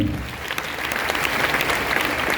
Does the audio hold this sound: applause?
yes